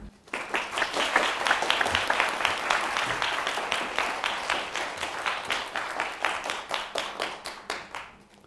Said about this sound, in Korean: 일단 감사와 환영의 박수를 드리고 네, 마이크를 넘기도록 하겠습니다.